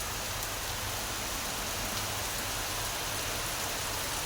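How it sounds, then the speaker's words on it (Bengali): Rain falls steadily at Jamuna City Park in Jamalpur, a continuous even hiss of drops on surfaces that stays at moderate loudness throughout, with no voices. "তা বৃষ্টি হচ্ছে"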